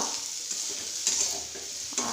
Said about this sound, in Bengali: ভাজা করছি, আস্তে আস্তে হোক ভাজাটা